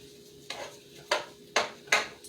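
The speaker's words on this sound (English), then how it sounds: "I'm going to give those a quick stir real quick" Four distinct scraping stirs of a utensil through onions and juices in a pan, each a short close swish-and-clatter spaced about half a second apart, over a low background hum with no talk.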